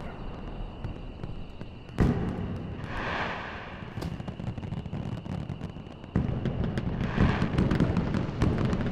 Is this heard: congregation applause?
no